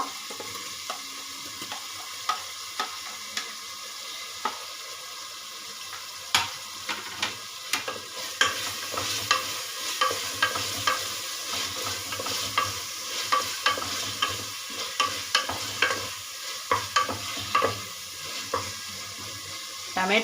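Tomato cooking in a pan for vegetable pulav gives a low sizzle under repeated stirring scrapes and clinks that grow busier and more rhythmic toward the end, close and moderately loud.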